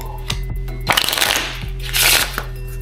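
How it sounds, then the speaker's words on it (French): A deck of playing cards is riffle shuffled, giving a close, crisp fluttering burst of cards interleaving, then a second riffle and a soft bridge, over a low steady background hum. "première chose, on fait le mélange américain"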